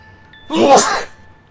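A single short sneeze, close and fairly loud, bursting out of quiet room tone and lasting about half a second.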